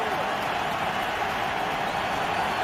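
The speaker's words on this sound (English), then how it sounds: "Bronco crowd turns it up a notch." A Denver Broncos stadium crowd during an NFL game against the Detroit Lions, a dense, steady roar of thousands of fans building in volume, continuous and loud with no breaks.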